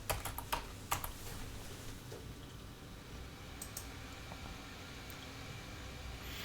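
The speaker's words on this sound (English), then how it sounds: "We're going to type in 21 EMA on daily." Light clicky typing on a computer keyboard, a few quick bursts of keystrokes near the start, then only quiet, steady room hiss for the rest.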